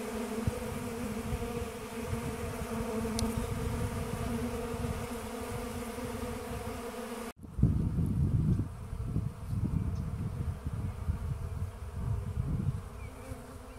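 Honey bees covering a dry pollen substitute feeder buzz steadily at close range, a dense droning hum, briefly interrupted by a sharp break before the buzzing resumes with some wind rustle.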